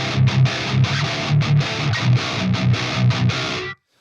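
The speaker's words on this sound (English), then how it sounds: "Some metal will have like a mid cut, which will sound like this." A 7-string electric guitar through a Fractal Axe FX III with a mid-cut metal rhythm tone chugs tight, palm-muted riffs with heavy distortion, loud and close, stopping abruptly near the end.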